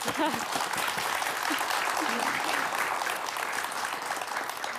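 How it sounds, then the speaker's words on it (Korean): Sustained audience applause after a lecture, a dense steady wash of many hands clapping throughout with little variation. "박수 한번 보내드릴까요?"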